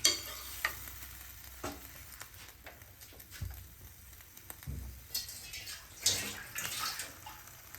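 A spoon stirs paneer curry in a hot pan, giving quiet, scattered scraping clicks and light sizzling under steady low kitchen hiss, with a few sharper taps against the pan.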